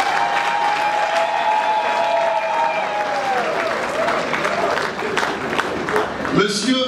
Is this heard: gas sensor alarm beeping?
no